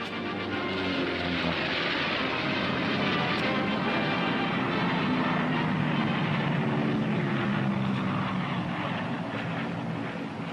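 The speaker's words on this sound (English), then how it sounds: "This is the P-61, called the Black Widow." Droning engine roar from a Northrop P-61 Black Widow, a WWII twin-engine night fighter, steady and loud throughout with a rough, windy texture and no talking.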